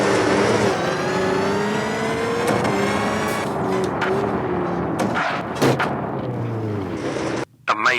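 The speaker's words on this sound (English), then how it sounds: "Jolly just drifting the car around." Rally car sliding through a drift in the Richard Burns Rally simulator, engine droning and rising in pitch with harsh revving and gear changes, loud and close, ending in a sudden cutoff.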